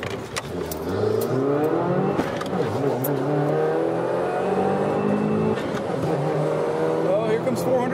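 A Subaru WRX accelerates hard down a drag strip, its engine note rising steadily and loud for several seconds, with people talking over the run.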